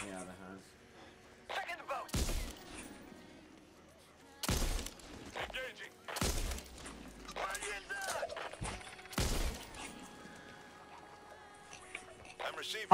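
Gunfire in the zombie shooter Back 4 Blood: five or six loud, sharp bursts spread irregularly over several seconds, standing out over a quieter bed of game ambience and faint voices.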